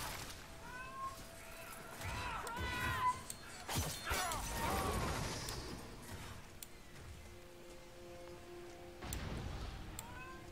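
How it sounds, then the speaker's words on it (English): A cat meows several times in a row, fairly quietly and close by, followed by a few softer, scattered sounds and then a lull. "Yes, Cat, we all hear you"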